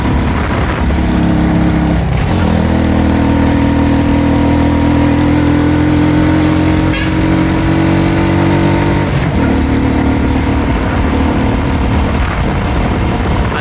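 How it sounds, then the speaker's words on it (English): A motorcycle riding through island countryside near the Chocolate Hills, its engine droning loud and steady close by, with brief shifts in pitch where gears change without the clutch. "doing clutchless shifting so I can do this video"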